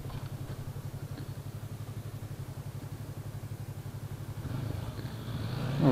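A Yamaha R3 321 cc motorcycle engine idles with a steady, rapid pulsing beat, faint and close, swelling slightly louder in the final seconds.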